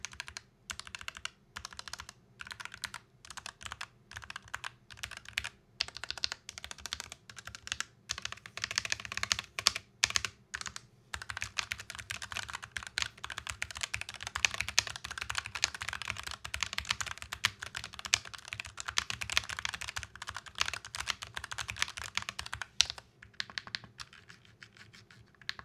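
Typing on a gaming keyboard fitted with Hall effect switches: a steady, rapid stream of close keystrokes, dense clacking with short pauses between bursts and no talking.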